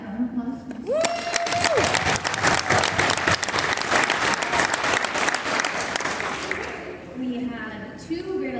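A school athletic awards crowd applauds for four grade 12 graduates, a dense, steady round of clapping that swells and holds for several seconds before fading, with a voice speaking briefly at the start and end.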